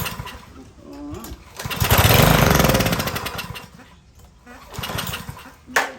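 A Cub Cadet LE 100 lawn edger, long unused, being pulled to start: its small engine sputters and surges briefly, then dies back, with short bursts of effort and people talking between attempts.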